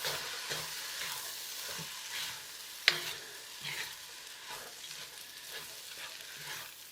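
Chicken fried rice with soy sauce is stirred in a hot pan, giving a continuous soft sizzle broken by repeated scraping strokes and one sharp clack of the utensil against the pan.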